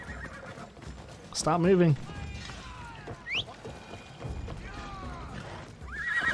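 A horse in the video game Assassin's Creed Odyssey gives one loud, close whinny, with hooves clip-clopping and other game noises around it while a player talks.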